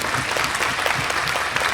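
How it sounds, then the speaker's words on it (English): Steady, dense applause from a convention panel audience at a Toulouse game show, continuous and fairly loud throughout the short stretch. "Applaudissements."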